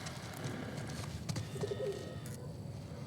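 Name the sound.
pigeons cooing in the video game The Last of Us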